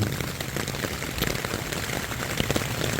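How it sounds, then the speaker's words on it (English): Steady heavy rain during a storm on the Appalachian Trail, a dense continuous patter of drops on surfaces, close and loud, with no talking. "And it's storming and raining."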